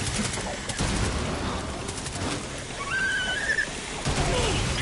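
Gunfire in the video game Rainbow Six Extraction, rapid bursts of shots crackling over dense game noise, with a voice talking over the action.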